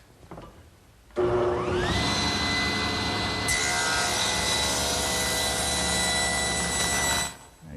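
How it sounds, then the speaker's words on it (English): A table saw fitted with a thin kerf blade spins up to a loud, steady whine and rips wood strips, its pitch holding constant for several seconds before it winds down. No one speaks. "So I've set up my table saw with what's known as a thin kerf saw blade"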